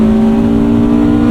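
1995 Honda Civic Si with an SOHC VTEC engine, revving high and steady at close range inside the cabin, a loud sustained tone with no talk.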